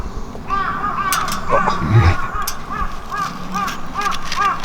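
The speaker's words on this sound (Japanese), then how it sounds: "じゃカラスが 家に帰り始めた。" Crows caw repeatedly at a campsite in the evening, a series of hoarse calls at moderate distance over a steady outdoor background, with brief low thumps near a campfire and faint voices.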